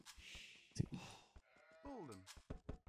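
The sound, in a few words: sheep bleating in a strategy video game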